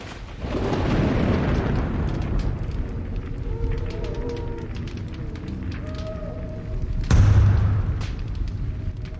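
Heavy siege explosions pound the gate in the Age of Mythology Retold video game, with deep rumbling booms, debris crackle and a sharp louder blast near the end, amid battle noise and faint tonal game sounds.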